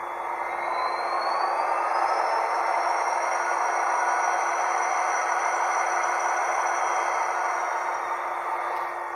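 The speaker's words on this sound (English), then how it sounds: "Now the compressor." A Hornby Class 66 TT120 model locomotive's sound decoder plays a steady air compressor effect, a continuous hissing, humming drone with a faint rising whine, alone and at even loudness throughout.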